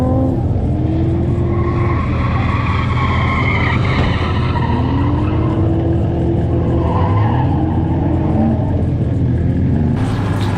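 A Nissan 240 drifts at a drift event with no power steering after a blown hose, its tires squealing in long skids over a loud, steady engine roar.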